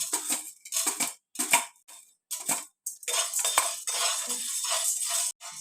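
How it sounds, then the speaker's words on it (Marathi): Lentils for metkut being stirred and dry-roasted in a kadhai, giving bursts of dry rattling and scraping that come in short strokes, then a longer continuous run, close and clear with no talk. "आता आपण घेऊन भाजून घेऊया हे छान कढाईमध्ये"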